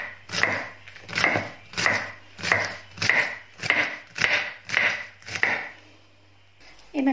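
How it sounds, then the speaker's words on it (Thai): A knife chops winged beans on a board in about nine even, rhythmic strokes, close and crisp, with a brief rustle as it stops. "หั่นถั่วพลู"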